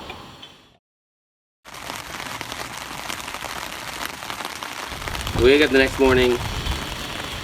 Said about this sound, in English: Everything's soaked because it's raining